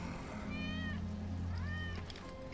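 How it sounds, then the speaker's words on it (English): In Final Fantasy 7 Remake, a cat gives two distinct meows about a second apart, moderately close, over a low ambient game hum. "That's Wedge's cat."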